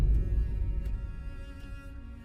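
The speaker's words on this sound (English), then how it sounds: "This one is deep and quite soft." Deep, soft cinematic impact hits with a low booming onset and then fades into a long, muffled rumbling tail, heard alone.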